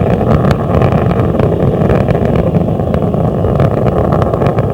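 Space Shuttle Atlantis climbs on its three liquid-fuel main engines during launch, a loud, dense roar carried over a broadcast feed, steady and harsh throughout with gusty crackle and no speech.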